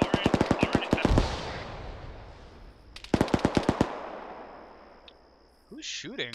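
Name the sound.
heavy machine gun fire in video game ArmA 3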